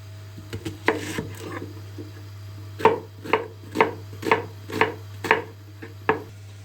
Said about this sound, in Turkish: İlk önce soğanımı doğrayacağım.